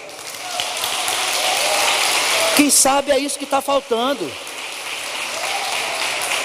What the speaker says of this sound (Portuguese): É para aplaudir Jesus? Então aplauda.